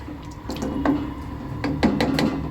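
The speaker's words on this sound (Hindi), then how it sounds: "ये 1 गिलास पानी मैंने और ऐड कर दिया है ताकि गोश्त जो है गल जाए" Water tipped from a glass into a cooking pot of meat, several splashing pours and drips at close range in a kitchen, with no one talking.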